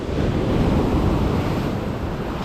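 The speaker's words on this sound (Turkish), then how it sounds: "Hemen önümde dalgalar biraz yüksek." High sea waves break at Karasu beach on the Turkish coast, a steady loud wash of surf with rushing wind noise, heard alone without voices.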